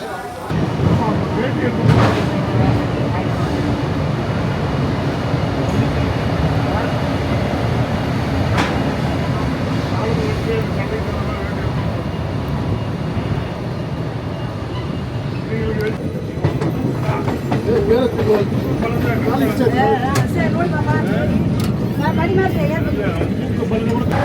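A passenger express train departing Bangalore SMVT rolls along with a steady rumble and clickety-clack of the wheels, faint voices murmuring inside the carriage.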